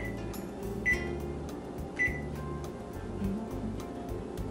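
An oven control panel is set to bake at 350 degrees, giving a few short electronic beeps at intervals over a steady hum, with a voice talking softly.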